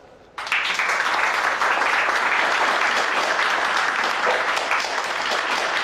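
A crowd bursts into sustained applause after a brief quiet moment, clapping loud and dense throughout.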